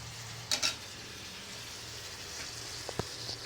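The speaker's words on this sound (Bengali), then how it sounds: "এই পাশে পেঁয়াজ, রসুন আর শুকনো মরিচ দিয়ে দিছি, আর একটা তেজপাতাও দিছি।" Onion, garlic, dried chili and a bay leaf frying in hot oil in a pot, giving a steady close sizzle with a couple of brief louder spits and clatters.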